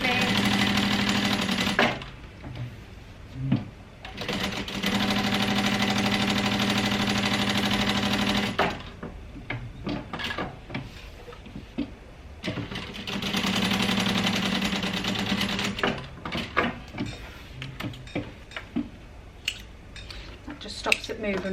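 A sewing machine bastes a bag's lining to its exterior in two long steady runs of whirring stitching, close and loud, broken by short pauses and handling noises of fabric.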